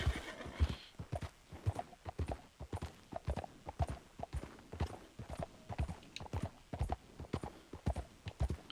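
Horse hooves clip-clop in a steady rhythmic gait in the video game Red Dead Redemption 2, with a neigh early on. The sound is quiet and close.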